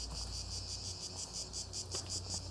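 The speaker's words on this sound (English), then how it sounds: "They're cicadas." Deafening cicadas at night, a dense pulsing shrill chorus that swells in steady rhythmic waves, loud and continuous throughout with no voices.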